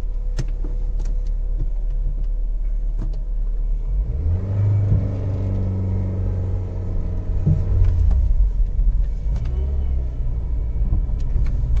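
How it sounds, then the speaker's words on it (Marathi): A car engine idles with a low steady rumble, then starts up and runs louder with a deep droning hum, close by and continuous. "गाडी पुढे घेतो"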